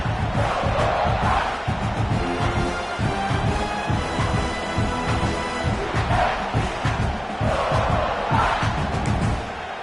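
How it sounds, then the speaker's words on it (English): A stadium crowd at a Mississippi State versus South Carolina college football game roars continuously and loudly, a dense, sustained wall of cheering with swelling peaks. "The roar of the crowd trying to fuel this defense to keep them pinned in their own end"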